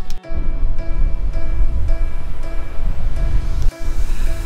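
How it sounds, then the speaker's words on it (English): Rough sea surf rolls in at Dunrobin Beach in Scotland, a loud continuous broadband wash with gusty wind buffeting the microphone, close and steady with no voices. "I'm thinking that sea's quite rough actually."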